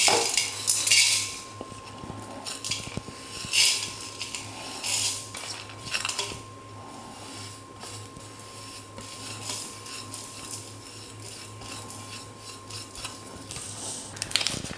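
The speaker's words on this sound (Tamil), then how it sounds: "தேங்காய் தவிர மீதி எல்லாம் போட்டு கடாயில் லேசாக வறுத்து எடுத்துக்கலாம்." Whole spices being dry-roasted in a kadai, scraped and stirred with a metal spoon, producing repeated rasping and clinking strokes against the pan at an irregular pace, moderately quiet and close.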